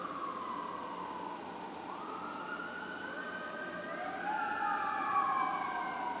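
Several emergency vehicle sirens wail at once in the distance, overlapping rising and falling tones that grow a little louder toward the end.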